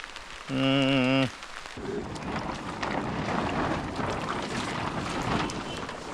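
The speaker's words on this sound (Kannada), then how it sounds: "ಮಳೆ ಜೋರಾಗಿ ಸ್ಟಾರ್ಟ್ ಆಯ್ತು ಈಗ ಪುನಃ ಸೆಕೆಂಡ್ ರೌಂಡ್ ಇದು" A short electronic beep, then heavy rain roars steadily and loudly over harvest fields, a dense, continuous hiss of downpour with no voices.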